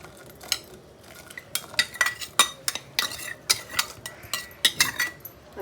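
A spoon stirs sago in boiling water in a cooking pot for a fasting meal, giving a run of irregular metallic scrapes and clinks against the pot over a soft bubbling bed, close and fairly distinct.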